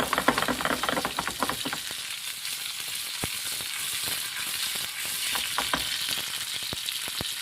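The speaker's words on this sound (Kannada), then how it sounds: "ಇಲ್ಲಿ ಚೆನ್ನಾಗಿ ಫ್ರೈ ಆಗೋದು" Fish fries steadily in a pan with oil, a dense continuous sizzle and crackle with scattered pops, close and loud throughout without talk.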